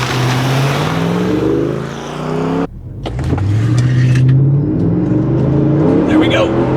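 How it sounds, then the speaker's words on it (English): A loud nitrous-fed Mercedes AMG V8 car engine roars hard, cuts out abruptly, then surges back up in pitch as it accelerates again, with voices shouting over it. "we're going to be spraying nitrous into the engine"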